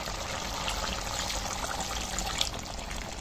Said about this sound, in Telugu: కొద్దిగా వాటర్ కూడా యాడ్ చేద్దాం